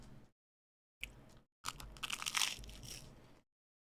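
Chewing a crunchy sandwich close to the mic: a short crunch, a pause, another brief one, then a longer run of small crackling crunches that gradually fades, with no talk.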